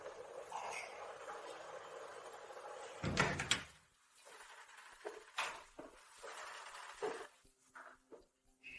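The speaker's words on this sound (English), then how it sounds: "don't you know who knocks on the door?" Knocks on an indoor door come as a few separated, sharp raps, the loudest burst near the start, then softer knocks spaced a second or two apart in a quiet room.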